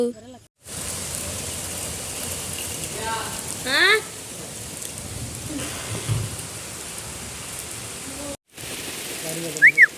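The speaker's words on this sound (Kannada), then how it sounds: "ಮಳೆ ಬರುತ್ತಲ್ಲ." Rain falls steadily outdoors as a continuous hiss of drops striking surfaces, with birds chirping and brief voices heard faintly in the background.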